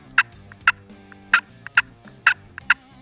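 A friction pot call imitates hen turkey cutting: sharp, irregularly spaced clucks and short bursts, fairly loud and close, heard alone without talk.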